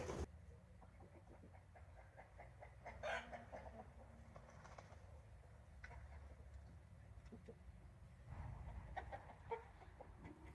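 Chickens cluck softly in the background with scattered calls, a couple slightly louder bursts standing out over a quiet, steady ambience.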